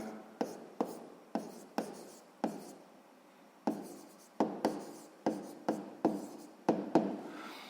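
Chalk or marker writing out a maths check calculation on a classroom board, a series of sharp taps followed by brief scratchy strokes at an uneven, quick rhythm, close and fairly quiet.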